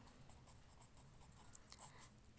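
Pen scratching out an equation on paper, faint and steady with small irregular strokes in a quiet room.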